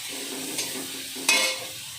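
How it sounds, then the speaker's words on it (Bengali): Spices sautéing in a hot kadai for chana dal, a steady close sizzle with two brief louder scraping stirs, no talking. "মশলাটা আমি একটুখানি কষিয়ে নেবো।"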